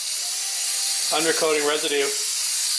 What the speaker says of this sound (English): Just spray it on for a minute and let it sit.